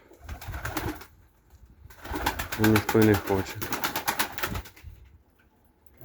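Purebred crested pigeons coo in close, rhythmic bursts that build to a loud peak and then fade, with someone speaking over and between the calls.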